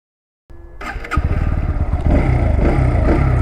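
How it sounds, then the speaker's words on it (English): A 2023 Bajaj Pulsar NS 160 motorcycle engine starts after a brief silence, then settles into a loud, close, rapid pulsing idle that rises in pitch and volume as the rider pulls away, with no talking. "It actually sounds sweet, doesn't feels like normal commuter motorcycle."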